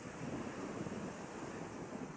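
Strong waves break on a windy shore, a continuous rolling roar mixed with low wind buffeting against the microphone, with no talking.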